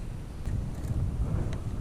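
Wind buffeting a microphone at a grassy fishing spot near Tulsa, a steady low rumble with soft gusts, close and fairly loud, no talk.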